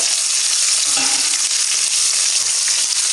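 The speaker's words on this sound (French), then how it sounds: "Donc je le mets là, il va griller, hein. Il va griller les deux côtés" A whole tilapia fries in a pan, giving a loud, steady, hissing sizzle of hot oil that runs dense and unbroken throughout, with a faint clink near the start.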